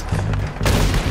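A single sharp gunshot in Red Dead Redemption 2, fired to knock a hat off, bursting loud and close over a dense backdrop of game sound with a brief rumbling tail.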